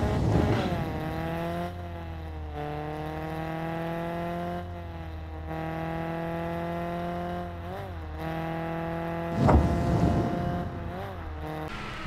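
The Honda Civic EK9 engine in Car Parking Multiplayer revs loud and close, with steady high-pitched sustained tones that rise and fall through several throttle blips and a sharp burst near the end.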